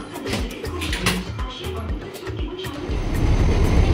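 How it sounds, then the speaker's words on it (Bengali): A local train rolls into Howrah station, wheels knocking rhythmically over rail joints with low rumbling that swells louder toward the end, close and continuous without talk. "লোকাল ট্রেন বেলানগর থেকে ছেড়েছে 8:30 সময়, এখন আমরা হাওড়া ঢুকছি প্রায় 9:04 ঘড়িতে।"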